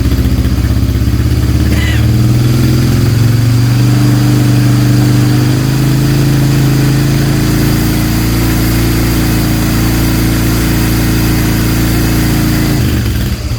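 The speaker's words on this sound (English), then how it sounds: "we'll just bring the revs up again now" An ATV engine runs loud and close, its revs held up at a steady high idle with a slight pitch rise early on, then dropping off at the very end.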